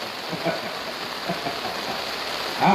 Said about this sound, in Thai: ตอนนี้ฝนที่สนามนี่แรงมากครับ แต่โชคดีที่มันไม่มีลมครับ ตกแรงครับแต่ไม่ลม